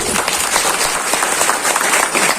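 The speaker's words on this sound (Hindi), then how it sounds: "आप सभी के लिए जोरदार तालियां चाहती हूँ।" Audience applause at a large indoor Ayurveda product mega show, a steady wash of many hands clapping that stays loud and even throughout with no talk on top.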